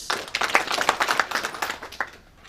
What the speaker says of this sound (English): Can we clap for them as I mentioned?